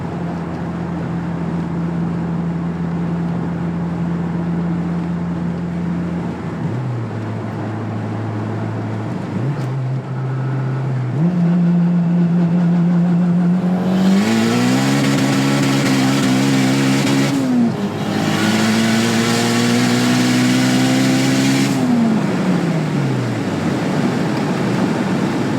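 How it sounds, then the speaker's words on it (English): A turbocharged 9th-generation Honda Civic Si idles, then revs up in several sustained, rising pulls with a loud, raspy turbo-fed exhaust note close by, dropping back between blips. "The car sounds so good."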